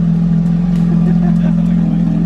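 A twin-turbo Lamborghini Huracan runs up close with a loud, sustained low engine drone and steady rumble, while a voice talks briefly underneath.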